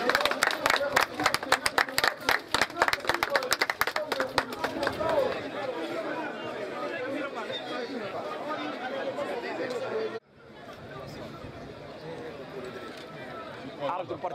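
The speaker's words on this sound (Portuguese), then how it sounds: "É palmas. Palmas." Crowd clapping and chatter at a football cup final in Guinea, a dense stretch of hand claps over constant crowd noise and talk that thins out and drops after about ten seconds, leaving murmuring.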